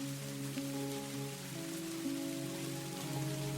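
Steady rain falls on a dark night, a soft continuous patter with low sustained tones running beneath it, faint and even throughout with no voices.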